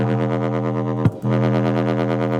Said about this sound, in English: you can get some pretty nice little wobbles.